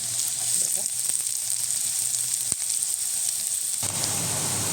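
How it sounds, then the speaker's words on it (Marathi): Finely chopped onions fry in a pan with a loud, continuous close sizzle and crackle, broken by an occasional stir, and the frying grows fuller near the end. "कांदा मी असा छान परतून घेते बघा लाल तर परतून घ्यायचा"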